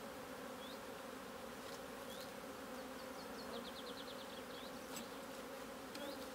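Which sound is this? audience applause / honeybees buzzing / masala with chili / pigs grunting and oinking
honeybees buzzing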